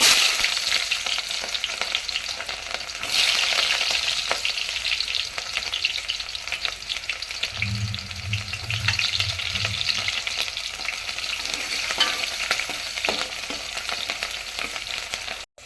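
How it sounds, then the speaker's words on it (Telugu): Onion pieces frying in hot oil for a traditional fish curry, a loud, continuous close sizzle with crackling spatter and occasional stirring scrapes, with a short low rumble partway through. "ఆయిల్ హీట్ ఎక్కింది ఉల్లిపాయ ముక్కలు వేసుకుందాం"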